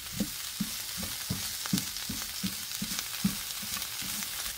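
Kimchi fried rice being stir-fried in a pan, starting from hard rice that was never microwaved, with a steady sizzle and a regular rhythm of spatula scrapes and tosses about twice a second, close up, with no talking.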